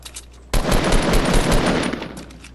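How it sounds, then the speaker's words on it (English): Video game gunfire erupts suddenly as a loud, sustained burst of rapid automatic shots, close and dense, lasting about two seconds after a faint lead-in of distant shots. "They're getting shot at"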